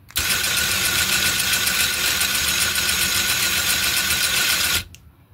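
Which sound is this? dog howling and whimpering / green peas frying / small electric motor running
small electric motor running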